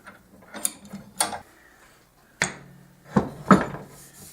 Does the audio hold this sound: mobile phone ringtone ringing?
no